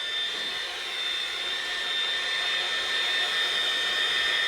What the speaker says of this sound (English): I've got a hairdryer or a craft tool here, just going to give it a blast.